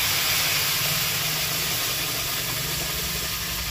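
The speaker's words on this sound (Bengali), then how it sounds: "টকবক করে ফুটছে" Two cups of water boil vigorously in a pot on the stove, giving a steady, close bubbling hiss with a low rumbling undertone and no voices.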